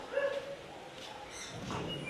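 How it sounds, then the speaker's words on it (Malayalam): A dog gives a short, faint whimpering bark, followed a moment later by another soft bark, with no one talking. "നമ്മുടെ ഡോഗ്സിൻ്റെ പെർഫോമൻസ് ഒന്ന് കാണാം"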